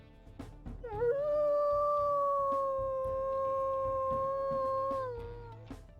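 After a quiet moment, a wolf in the video game WolfQuest lets out one long, clear, higher-pitched howl that glides up, holds steady for several seconds, then tapers off near the end.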